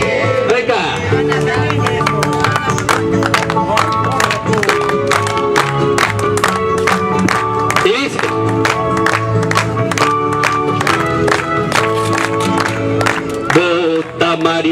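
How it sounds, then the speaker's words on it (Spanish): An audience claps steadily along in rhythm to a live campaign song for Mario Di Costanzo, the claps blended into loud, continuous music throughout. "ustedes nos van a ayudar incluso también con las palmas"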